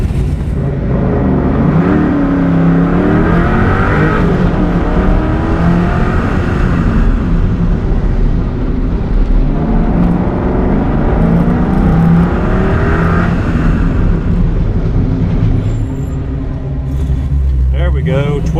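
Ford car in a Ford Fest stopping competition: the engine roars loudly through two rising acceleration sweeps separated by slowing, close up and continuous, with someone talking over it.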